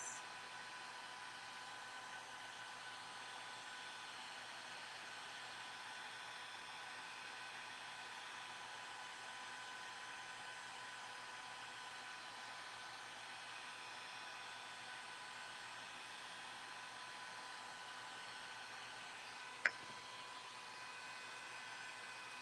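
A heat tool blows steadily on resin coasters to crack their finish, a constant whirring hiss of moving air that holds level throughout, with a tiny click near the end.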